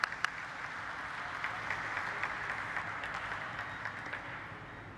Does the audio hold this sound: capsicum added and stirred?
no